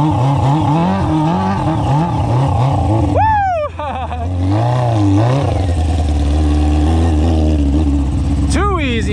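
Honda ATC600r three-wheeler engine revving loud and close, rising and falling in sharp bursts with several quick throttle blips, while someone talks over it.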